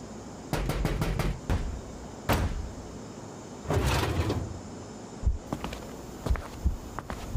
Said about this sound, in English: here's some knocking at the door